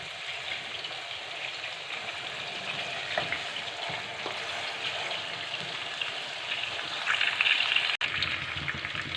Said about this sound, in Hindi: चिकन को हमने 10 मिनट्स के लिए फ्राई किया है लो फ्लेम पे।